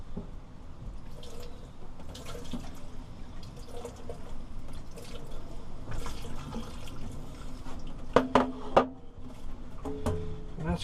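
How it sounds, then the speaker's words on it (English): Water trickles and splashes steadily while grit is rinsed off a boat portlight being polished, with a few brighter clinks and splashes near the end and no talking. "you can actually start feeling where that grit's coming out, and you need to rinse it"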